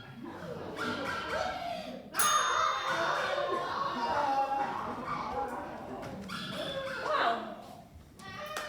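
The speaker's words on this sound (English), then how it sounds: "good job I've still got my pack of genetically modified killer dogs that are trained to attack and kill zombies" Dogs bark in short yips and whimper in a comedy sketch about chihuahuas trained to fight zombies, the sounds close and mixed with excited voices over a busy background.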